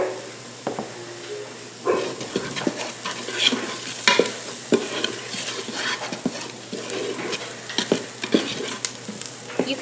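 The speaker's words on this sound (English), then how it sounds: "They have been sauteing for a couple minutes, and they're starting to get nice and translucent." Onions and celery sauté in a Ninja Foodi pressure cooker for potato soup, a steady close sizzle broken by repeated scrapes and clicks of a utensil stirring the pot, with no talking.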